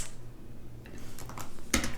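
A search is typed on a computer keyboard: a handful of soft, scattered key clicks, fairly close and quiet, ending in a sharper tap near the end over a low background hum.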